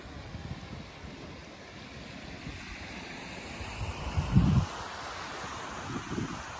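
Ocean waves wash in steadily with a soft continuous roar on an Okinawa shore, one fuller surge swelling midway, no voices.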